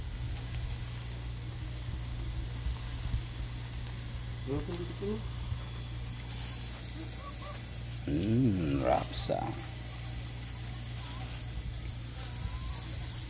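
Steady sizzling and bubbling of food cooking, with a low hum beneath and a few short voices breaking in partway through.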